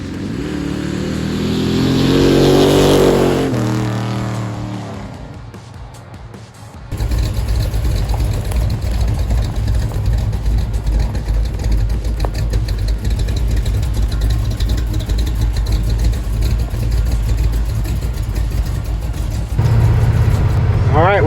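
A 1985 Chevrolet C10 pickup drives down the road, with a steady, loud rumble of engine and road noise that runs continuously from about seven seconds on, after a softer, shifting stretch at the start.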